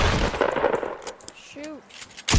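Gunfire in the video game Fortnite: a rough burst of shots at the start and another sudden burst at the end, with a voice speaking briefly in between.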